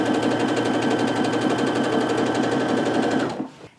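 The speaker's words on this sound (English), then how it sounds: "that way you can just keep on sewing" Strip-pieced quilt fabric runs through a sewing machine in a rapid, even stitching chatter, loud and close, before it stops abruptly near the end.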